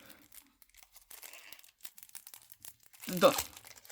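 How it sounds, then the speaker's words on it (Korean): Plastic wrap is torn off a Yu-Gi-Oh card deck, scattered faint crinkles leading to a louder ripping crackle near the end, close up while a person talks. "담배 뜯듯이 이렇게 쫙 해가지고"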